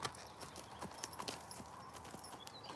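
Hooves of a small horse clip-clop in a steady rhythm as it is ridden, fairly close, with faint background noise between the footfalls.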